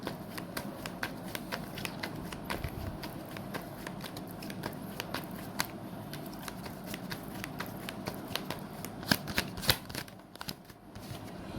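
Tarot cards are shuffled continuously at close range, a steady soft riffle of many quick papery flicks with a few sharper snaps near the end, and no voices.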